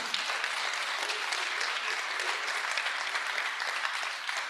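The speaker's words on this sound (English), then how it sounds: "Can we give me a round of applause?" An audience at an entrepreneurship seminar breaks into applause. The clapping is full and steady, at an even level throughout, dropping slightly only at the very end, with no speech over it.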